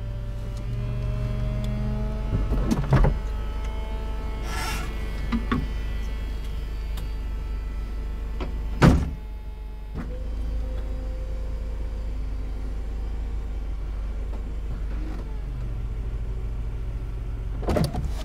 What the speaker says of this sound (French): on va se garer sur le bas-côté et on décapote